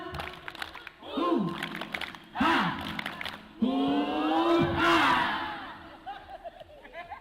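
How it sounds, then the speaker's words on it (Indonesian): A group outdoors at an outbound team-building event does a rhythmic spirit clap, bursts of claps and loud shouted chants coming in three waves, with voices and laughter between them. "Oke, sekarang tepuk semangat."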